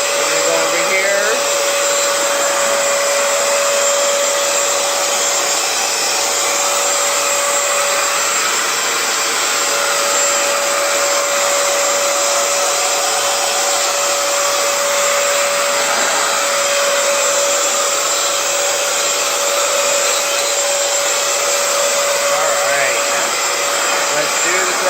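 A Hoover FloorMate Edge floor cleaner running in wash mode: a loud, steady motor whine with a constant tonal hum that holds unbroken for the whole stretch, close by.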